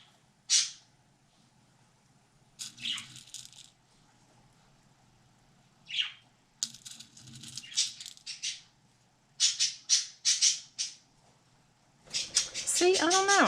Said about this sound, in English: Yes, the birds. Nuts. We hear you, birds. We hear you.